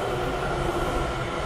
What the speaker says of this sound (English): Okay, here comes the train.